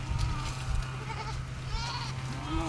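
A goat bleats a couple of times at a distance, faint against steady outdoor background noise and a low rumble.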